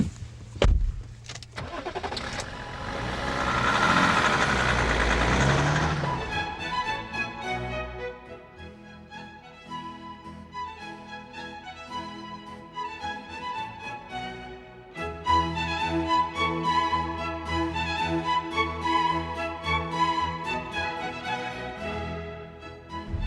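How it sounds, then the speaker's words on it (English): A BMW 530 diesel's 3-litre six-cylinder common-rail engine catches with a burst of cranking and revving, then settles into a steady, moderately loud idle that swells again as it is revved, with no talk over it. "The first thing you notice about the BMW is the power that this new 3-litre 6-cylinder common rail diesel engine kicks out."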